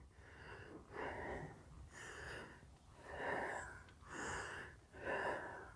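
A horse breathes heavily after being ridden, preparing for a show. Deep rhythmic snorting breaths come about once a second, six in a row, close and fairly quiet.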